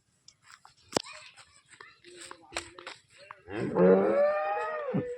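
A medium-sized two-tooth cow at a livestock market lets out one long, loud, close moo after a stretch of talking and background chatter.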